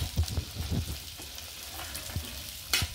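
Green peas and potato frying in a kadhai over low gas for kanda poha, a steady close sizzle with a few louder crackles and spatters.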